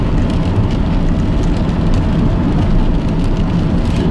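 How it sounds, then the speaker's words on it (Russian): Steady rain heard from inside a moving car in Simferopol, Crimea, a dense continuous patter blended with low road rumble and engine noise, loud and unbroken with no talk. "На улице идет дождик."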